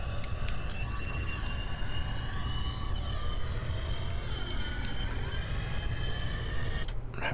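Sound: airplane engine in video game BeamNG.drive

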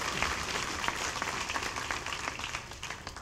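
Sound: applause

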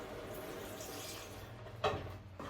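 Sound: pouring thin coconut milk into the pot

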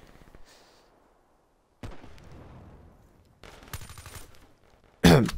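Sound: silenced SMG gunfire in a video game

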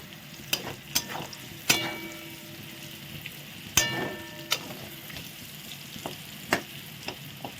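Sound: potatoes frying with whole garam masala

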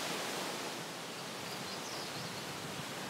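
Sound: creek water rushing

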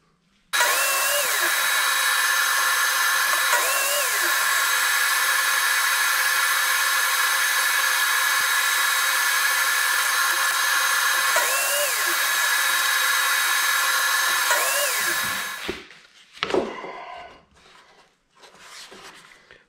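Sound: saw cutting a piece of wood

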